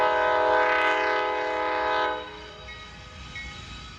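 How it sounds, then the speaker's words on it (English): A freight train on the ex-C&O line sounds a long, loud multi-tone horn at a crossing, holding for about two seconds before fading into the steady rumble of the passing train. "With horns giving the mandatory warnings to road users, the train is about to cross over the Norfolk Southern main line"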